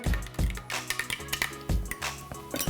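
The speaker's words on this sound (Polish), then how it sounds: "To wszystko mieszam, słuchajcie." Cold brew coffee grounds are stirred with room-temperature water, giving close, rhythmic scraping and clinking strokes against the container, with a few wet squishy pulses.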